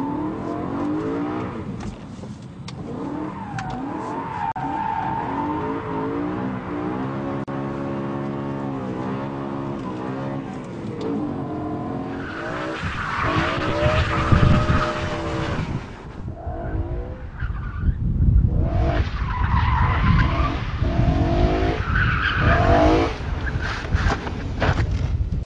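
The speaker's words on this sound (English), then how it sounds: "Just listen to the engine note to get a better idea." A BMW M3 being drifted: engine revs rise and fall through gear changes, with bursts of loud tire squeal in the second half as the car slides, heard close and without talk.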